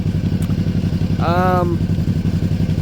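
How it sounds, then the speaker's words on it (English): Motorcycle engine running a little rich after being fed from a fuel bottle, idling with a steady, close, loud throbbing pulse throughout, a brief whine rising over it midway. "sounds like it's running a little rich"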